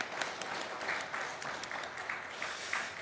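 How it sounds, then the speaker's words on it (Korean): Church congregation clapping at a Wednesday worship service, a soft, even patter of many hands with a few distinct claps popping out, continuing throughout at a modest distance. "우리 박수로 격려하고 축복합니다."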